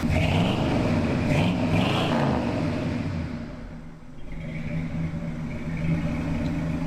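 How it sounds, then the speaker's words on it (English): An old Ford F100 pickup engine, abandoned for twenty years, runs steadily with a mid-pitched rumble and light revving near the start, easing slightly before settling back into a continuous idle-like drone. "Pull the cable off, engine's still running."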